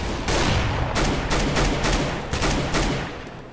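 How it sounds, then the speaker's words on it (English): AK rifle fire in a first-person shooter game: a rapid, loud burst of repeated gunshots, several closely spaced shots sounding alone with no talk. "I shot a guy in the head of the AK and he didn't die."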